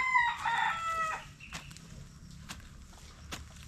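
Hen on a ginger-harvest farm in the Philippines: a loud rooster-like call opens the clip, then a few sharp scattered clucks and faint footsteps over quiet outdoor background.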